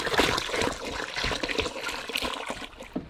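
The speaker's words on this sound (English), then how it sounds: "So gonna have a quick shower." Water pours and splashes from a jerry can used for an outdoor camp shower on Fraser Island, a soft, uneven trickle and patter at close range with no talking.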